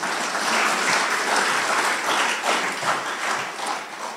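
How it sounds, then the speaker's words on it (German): A lecture audience claps vigorously in steady, dense applause to welcome a speaker at an evening talk, with individual hand claps faintly distinguishable and no voices over it. "Wir begrüßen ihn mit einem kräftigen Applaus."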